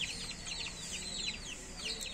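A multicoloured mother hen and her ten chicks make continuous high chirping and peeping. The soft, busy calls overlap over a faint background murmur.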